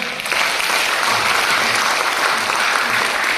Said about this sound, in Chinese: 下面大家用热烈掌声有请周勇先生。